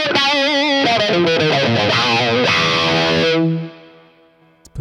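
Electric guitar driven through an STL Tones AmpHub envelope filter into a dirty, distorted amp, a quacky wah-like phrase of picked notes and chords ringing out loudly before cutting off and decaying.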